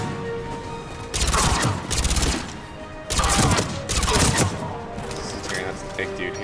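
Bursts of gunfire from the Mass Effect 3 video game, loud volleys of rapid shots that come in and then stop with short pauses between them, over a steady game background bed, with a voice talking at times.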